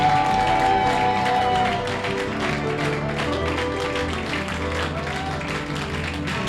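A church congregation at an Easter service claps and cheers, with dense, continuous applause and crowd noise that is loud at first and then eases slightly.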